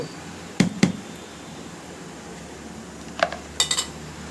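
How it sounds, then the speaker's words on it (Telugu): A lid goes onto a container of dosa batter: two quick knocks early, then a pause, then a few more clinks and taps as it settles. Sharp, close and isolated, no speech. "ఇలా మూత పెట్టేసేయండి"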